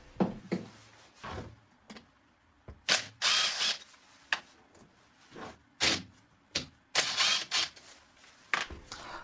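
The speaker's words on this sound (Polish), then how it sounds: "odkręcam 4 śruby trzymające" Tools working on a Peugeot 3008 hybrid starter generator as four bolts holding the front bearing lock are undone, heard as repeated sharp mechanical bursts and ratcheting clicks separated by brief quiet gaps.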